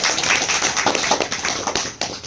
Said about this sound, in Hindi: जोरदार तालियां इनके प्रेम के लिए।